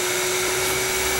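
A plugged-in vacuum cleaner runs with a loud, steady broadband roar and a constant whining hum for about a second before cutting off abruptly.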